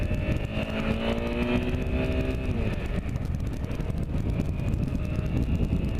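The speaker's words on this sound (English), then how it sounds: "Okay, let's try an upshift." A Honda CBR250R motorcycle engine drones steadily at close range, its revving pitch held and then dropping as the rider upshifts, settling into a lower, even hum.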